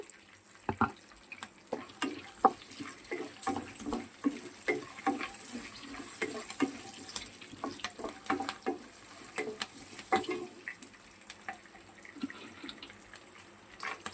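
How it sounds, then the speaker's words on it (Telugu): Green chillies and chana dal frying in oil for lemon rice, a steady crackling sizzle with repeated stirring scrapes and occasional clinks throughout, fairly close and moderately loud, with no talking. "దీంట్లో పచ్చిమిరపకాయలు యాడ్ చేస్తున్నాను, శనక్కాయ పప్పులు,"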